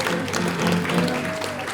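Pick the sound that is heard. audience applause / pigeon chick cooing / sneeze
audience applause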